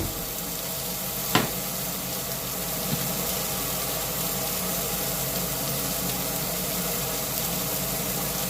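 Butter warming in a pan gives a soft, steady sizzle, faint and close, with one sharp click early on and no talking.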